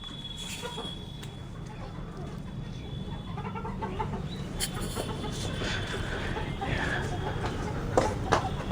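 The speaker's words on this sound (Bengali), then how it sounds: "মুরগিগুলোকে চেষ্টা করছি ভেতরে ঢুকিয়ে দেওয়ার, গোয়ালের ভিতরে" Chickens cluck softly and scatter small calls as they walk on their own into a cattle shed at a holiday home, with steady background noise and faint voices throughout.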